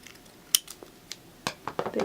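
Scissors snip a metal strip off a cut-open can: a few sharp, scattered clicks and crisp metallic snaps, close and fairly quiet, separated by short pauses, with no talking.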